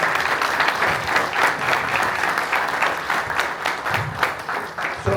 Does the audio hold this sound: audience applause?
yes